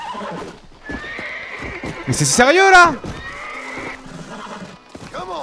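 A horse in Red Dead Redemption, a Western video game, lets out a loud whinny in the middle of the clip, with hoof clip-clops and someone talking in French before and after.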